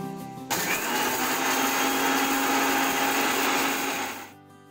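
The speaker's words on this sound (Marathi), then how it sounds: "आता ह्या मिरच्या आपल्याला वाटून घ्यायच्या आहेत मिक्सरमध्ये, यांची पूड तयार करून घ्यायची आहे आपल्याला." Mixer grinder blending dried red chillies into chakli masala powder, a loud steady whirring motor that starts abruptly, runs continuously for about four seconds and then winds down, with no talking.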